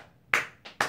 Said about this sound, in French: Je vous applaudis, hein.